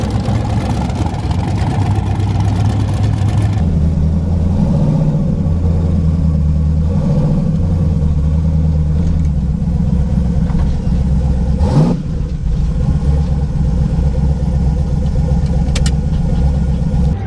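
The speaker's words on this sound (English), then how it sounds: "We got Juan racing the road" A race car engine at a test night on a track drones loudly and steadily at close range, its pitch shifting as it runs, with a brief sharp burst partway through.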